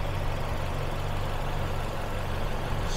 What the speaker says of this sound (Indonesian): Suara irama mesinnya masih senyap banget teman-teman.